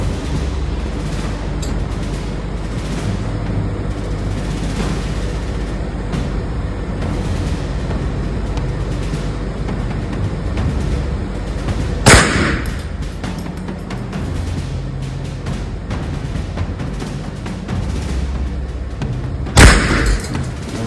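Two sharp, loud single gunshots from a 10/22 rifle ring out several seconds apart over a steady background hum outdoors at a shooting range.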